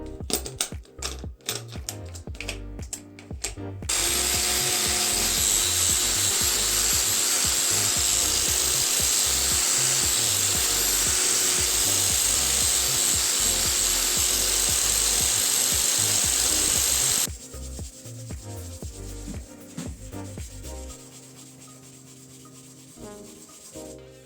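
A power tool polishes the bevel of an old axe head during a restoration, a loud continuous whirring grind lasting about thirteen seconds, framed by shorter bursts of rubbing and handling noise.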